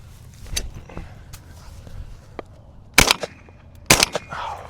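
Two 20 gauge shotgun shots with a modified choke fire at a hard-thrown clay target outdoors, loud sharp blasts about a second apart, each with a short echoing tail.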